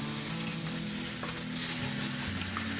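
Green seasoning sizzles as it goes into curried cascadoo (hassar) frying in a pot, a steady close crackle with soft stirring and no talk.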